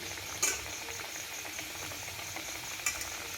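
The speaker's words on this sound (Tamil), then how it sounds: "அப்படியே ஒன்று ஒன்றா எடுத்து நல்லா பொறிச்சிக்க வேண்டியதான்" Sweet dough pieces deep-fry in oil over a low flame in a kadai, a steady, even sizzle and bubbling close by, with two sharp clicks of a utensil and no voices.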